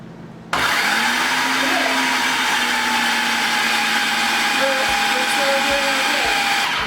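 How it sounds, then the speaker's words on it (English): An electric mixer starts abruptly and runs on low, mixing gluten-free bread dough in a steady motor whine with a faint tonal pitch shift, loud and close throughout. "We're gonna mix this on low at first to incorporate it."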